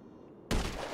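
A sudden, loud gunshot in GTA V story mode cracks out after a quiet stretch, a single heavy blast with a lingering, rumbling tail.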